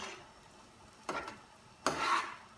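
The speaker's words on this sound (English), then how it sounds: "I'm going to give this a quick stir" A spoon stirs homemade marinara sauce in a pot, making two soft scraping sweeps against the pan over a low simmering background.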